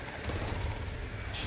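Birds in the video game Back 4 Blood give soft cooing calls, faint and brief against a steady wash of game ambience.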